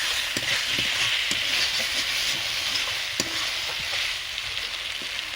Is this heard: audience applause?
no